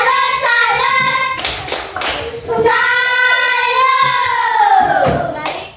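A classroom of sixth-grade children does a rhythmic clapping cheer, with loud bursts of claps between sung and chanted voices, close and lively.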